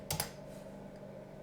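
Computer keyboard being typed on: two quick, crisp key clicks close together near the start, then a quiet room hum with no further keystrokes.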